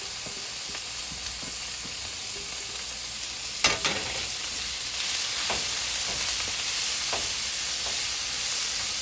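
Mushrooms and spinach fry in a pan with a steady, even sizzle, marked by one sharp clank partway through and a few soft stirring scrapes, heard close with no voices.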